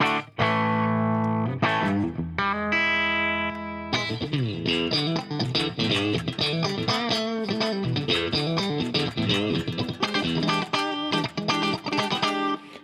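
A clean electric guitar tone from a Fractal unit in mono plays chords and single-note runs in a lively, steady pattern, loud and close, with no talking.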